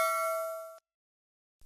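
A notification bell icon chime rings once, bright and clear like a struck bell, fading over most of a second before abrupt silence.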